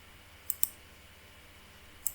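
Three quiet computer mouse clicks in Mathcad, two close together near the start and one more after a pause, sharp and isolated against a faint room hiss.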